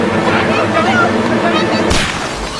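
A single loud gunshot goes off near the end of a chaotic Hindi film scene, a sharp crack over dense background music and commotion.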